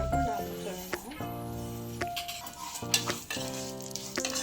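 Vermicelli roasting in ghee in a pan, stirred with a utensil: soft sizzling under repeated scraping and clinking strokes against the metal, close up, while a voice speaks.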